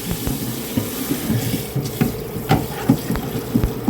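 Cold tap water runs steadily into a bowl of hard-boiled eggs, with small clinks and splashes scattered through the flow, close by.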